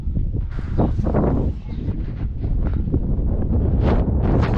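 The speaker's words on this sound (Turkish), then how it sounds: "rüzgarın olması hiç iyi olmadı." Loud, steady wind buffeting the microphone, a constant roaring rumble with gusty surges throughout.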